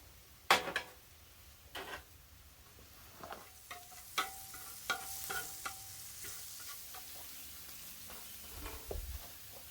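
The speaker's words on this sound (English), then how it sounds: "we're gonna go ahead and drop a little bit of butter down" Butter sizzling on a griddle as buns toast for venison cheesesteaks, a soft, quiet frying hiss broken by scattered scrapes and taps of a spatula on the metal.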